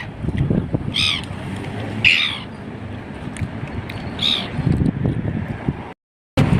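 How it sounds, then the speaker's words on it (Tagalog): Several birds give short, sharp squawks in separate bursts near people eating outdoors on a street, set against steady background noise and a gusty, windy rumble. "Ang daming ibon lumalapit."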